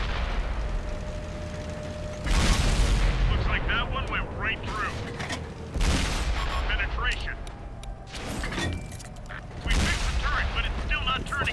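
Tank cannon fire in World of Tanks console gameplay with an AMX 13 90, several loud heavy booms with rumbling tails, spaced a few seconds apart over game sounds.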